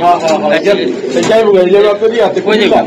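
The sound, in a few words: pigeons cooing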